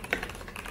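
Fingers tap quickly on a computer keyboard, giving a few soft, close clicks with two sharper keystrokes and no talk.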